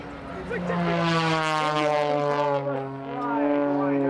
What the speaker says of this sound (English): Gaining altitude and sliding the airplane sideways.